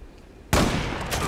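Gunfire in the online shooter Zula, a sudden loud burst of rapid shots starting halfway through a short clip and sustaining as a dense, close fusillade.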